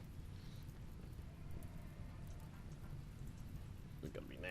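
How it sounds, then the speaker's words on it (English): Steady rain in the video game Rimworld hisses on as a continuous wash with faint rumbling underneath, and a few sharper ticks near the end. "well, it's raining"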